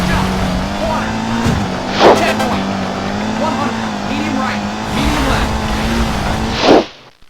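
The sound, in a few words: racing car engine and tire squeal from video game Sega Rally Championship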